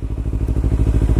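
Engine of a 2016 Kawasaki Ninja 300 sport bike on a test ride, a loud, close, steady buzzing drone with rapid pulsing and clattery texture throughout, no talking.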